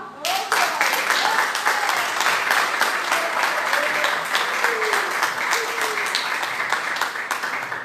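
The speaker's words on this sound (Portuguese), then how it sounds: "Vamos, Senhor, com as palmas?" A church congregation claps along in a steady, loud rhythm that continues throughout, with voices singing or speaking over the clapping.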